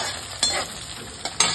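Dry curry leaves fry in a pan with oil, chillies and garlic while being stirred for poha chivda, a close crackling sizzle with a few sharp spoon-on-pan clinks.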